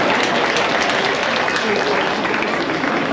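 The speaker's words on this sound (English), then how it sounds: "let's give these exhibitors a round of applause" Steady, dense applause from a crowd at a county fair livestock market judging, continuous and loud throughout, with a few voices faintly mixed into the clapping.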